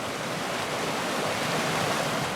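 River water rushes steadily across a wide shallow crossing in China, a dense, even wash of flowing water that stays loud and unbroken throughout, with no voices.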